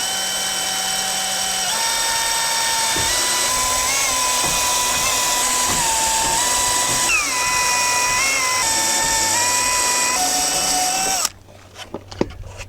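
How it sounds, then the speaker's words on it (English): A power drill whines loudly and steadily, its pitch dipping and rising as it bites through aluminum, for about eleven seconds before cutting off abruptly. "so I'm gonna go ahead and drill them"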